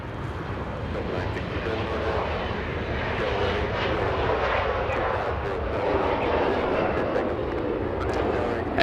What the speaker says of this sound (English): Let's go get the little E175 getting a move on.